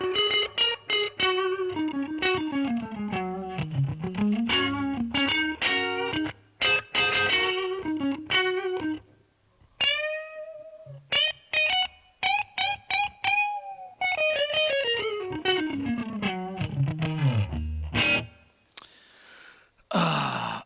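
Electric guitar drenched in heavy reverb and effects plays sustained, distorted notes and sliding phrases, loud and washy, with brief pauses between passages and no voices.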